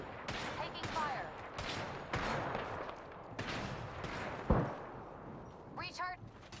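Gunfire in the Apex Legends video game, a string of sharp shots and bursts spread through the scene along with a heavy impact midway, all under game voice lines.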